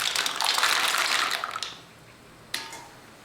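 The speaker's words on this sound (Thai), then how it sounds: "พอน้ำตาลเราใช้ได้ แล้วค่ะเราก็จะเทหอยใส่ลงไปค่ะ" Mussels are poured into hot sugar syrup, first as a loud rushing wet pour for about a second and a half, then after a pause a brief second splash that quickly fades.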